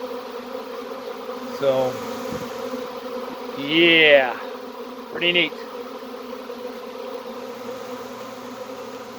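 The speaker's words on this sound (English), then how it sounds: "I don't know if you can see all those bees in the air" Honey bees swarming in the air around a hive, a steady insect buzz under a voice, with brief louder bursts of buzzing as bees pass close.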